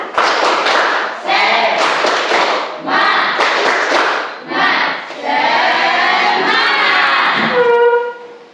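A class of children does a rhythmic spirit clap (tepuk semangat) during a lesson, with loud, close bursts of clapping and shouted voices repeating in short phrases.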